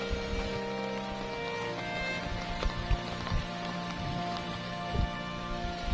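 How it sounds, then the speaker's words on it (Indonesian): Steady rain falls on and around a rural wooden hut, a dense continuous patter with occasional louder drips, moderately close and without any voices. "Mana hujan lagi?"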